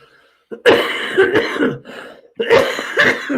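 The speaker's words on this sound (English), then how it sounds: "I've coughed" Two harsh, loud coughing bouts from someone nearby, each a cluster of rough bursts separated by a short pause.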